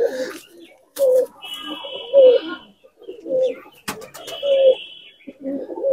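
Punjabi Malwai pigeons cooing at close range, a series of soft throaty coos repeating in short bursts roughly every second, with a few brief clicks and rustles between them.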